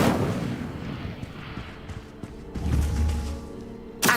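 Incendio fire spell cast in Hogwarts Legacy, a rumbling fiery whoosh with booming low thuds that swells in the second half and ends in a sharp burst.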